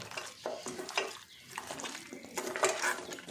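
Garlic and ginger paste is worked into mutton in a pan, close by, with a spoon's irregular stirring and scraping strokes and moist, squelching sounds.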